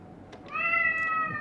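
A house cat meows once, a clear drawn-out tonal call rising and holding for about a second, close to the microphone with a quiet room behind it.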